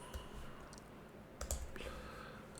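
Typing on a computer keyboard in a quiet room, with a few sparse, soft clicks and a brief cluster of keystrokes near the middle, faint and close with no talk over them.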